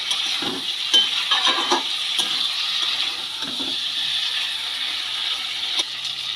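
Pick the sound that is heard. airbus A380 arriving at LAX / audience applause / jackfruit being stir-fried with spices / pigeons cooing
jackfruit being stir-fried with spices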